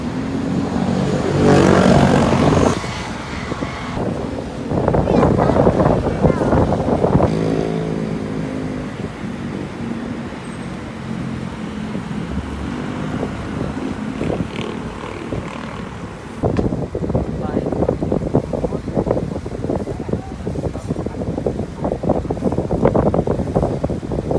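Strong wind at Dolomite Beach roars and buffets the microphone in heavy gusts, with traffic rumbling faintly in the background; no talking.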